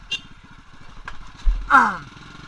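An old motorcycle engine idles near by with a low, uneven putter, broken by a few sharp clacks and a brief rising rev burst toward the end.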